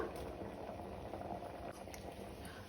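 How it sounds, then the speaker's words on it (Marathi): A pot of Goan sprouted moong curry bubbles at a steady, gentle simmer. The faint, continuous boiling plays alone with no other sounds. "मुगा गाठींक आतां बरो खतखतो येवपाक लागलो।"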